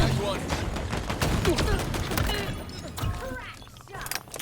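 Gunfire in the Halo video game: rapid bursts of shots crackle and rattle amid other game effects, fairly loud, with a voice talking over them.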